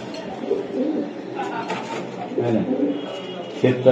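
High-flying Giribaz racing pigeons in Old Dhaka cooing close by in soft, throaty bursts, while people talk over them.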